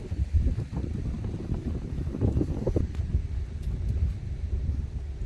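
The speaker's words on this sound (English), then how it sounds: "Oh, and I mean it's windy. It's whipping pretty good." Strong wind whips across a golf course in Florida ahead of an approaching storm, a steady broadband rush and buffeting against the microphone that persists throughout without a break.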